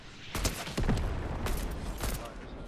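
Rapid bursts of gunfire from another team in a zero-build battle royale shooter crackle in clustered volleys, some sharp and close, others dull and distant, over a constant background din.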